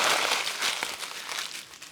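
A sheet of parchment paper is crumpled up by hand for a gluten-free pie crust, producing close, continuous crinkling and rustling that eases slightly toward the end.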